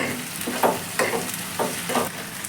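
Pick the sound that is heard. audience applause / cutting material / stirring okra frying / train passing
stirring okra frying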